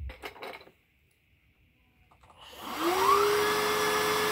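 A Hoover Fusion cordless vacuum cleaner clicks and rattles as it is handled, then spins up about halfway through into a steady, loud whine with a rising motor tone.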